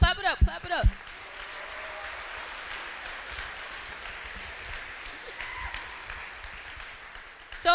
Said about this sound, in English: Everybody clap it up, clap it up, clap it up, clap it up